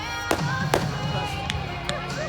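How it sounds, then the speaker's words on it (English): Pyrotechnics stream from the leading edges of an aircraft's wingtips during a night airshow at Weston Park, giving sharp, scattered cracks and pops under a steady background drone and a commentator's voice. "with the fireworks streaming from the leading edge of his wingtips"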